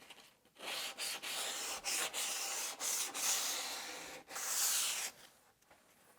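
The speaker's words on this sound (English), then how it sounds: "I will break the edges here with sandpaper so I won't hurt myself and I won't catch on it later on" Sandpaper is rubbed by hand along wooden edges to break them, a close, steady hiss in repeated strokes of about a second each with brief pauses between them, and no voices.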